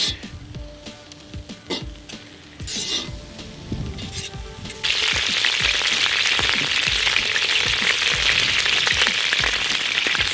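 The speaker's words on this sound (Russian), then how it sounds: "Сперва пассируем лук." Onions hitting hot butter in a cauldron over a campfire, with scattered utensil clinks and then a sudden loud, steady sizzle that keeps going to the end.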